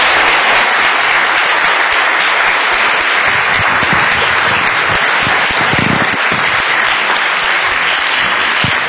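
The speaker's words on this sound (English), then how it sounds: "please join me in giving a big round of applause to Matthew Barney" A live audience gives sustained, dense applause for the artist Matthew Barney at the Hirshhorn, steady and loud from start to finish with no voices on top.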